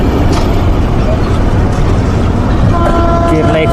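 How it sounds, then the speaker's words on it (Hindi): An Indian Railways Howrah Mumbai Mail train rumbles over a diamond crossing near Nagpur Junction with a steady loud roar of wheels and carriages, with a faint tonal horn-like whine near the end. "डायमंड क्रॉसिंग से अपनी ट्रेन निकल रही है अभी।"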